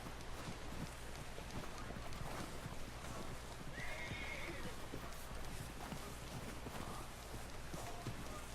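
A horse in the video game Red Dead Redemption 2 whinnies once briefly, with soft hoof clops and a steady outdoor wind bed running throughout at moderate level.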